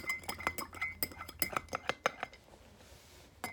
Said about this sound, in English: Keep stirring till it's super good.